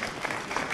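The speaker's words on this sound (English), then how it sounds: "So let's give him a huge round of applause." Audience applause for a movie producer at a stage event, a brief dense burst of many hands clapping at once.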